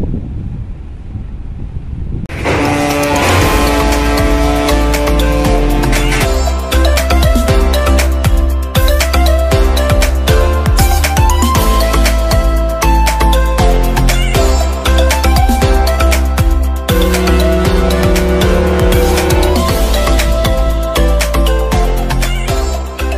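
Strong wind batters the microphone at a ferry dock at night as waves churn, a loud, continuous roar with rumbling low end and bursts of gusting that never let up.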